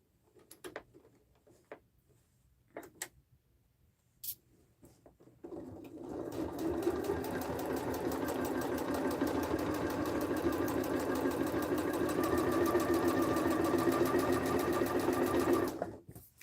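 A sewing machine stitches a bag handle on a patchwork duffle, starting after a few scattered clicks and taps, then whirring in one steady, close, continuous run for about ten seconds before stopping.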